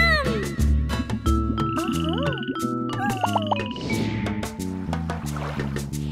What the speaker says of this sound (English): Then there were three cute speckled frogs.